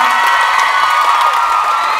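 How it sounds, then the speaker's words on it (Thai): Stage-event audience cheering and applauding, a loud continuous crowd roar with high shouts and whoops throughout the short burst. "ปรบมือดังๆให้ อีกครั้ง"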